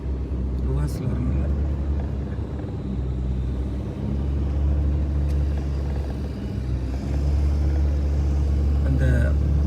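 A car drives across desert sand at Sealine, Qatar, its engine a steady low rumble that keeps on while people talk inside.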